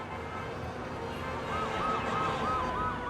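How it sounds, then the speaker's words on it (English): A passing ambulance siren wails in repeated rising and falling sweeps over a steady city traffic hum, growing louder as it approaches. "And a passing ambulance siren screamed at 120."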